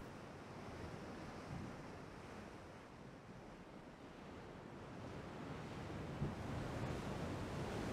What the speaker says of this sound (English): How rough is the sea? Smooth waves.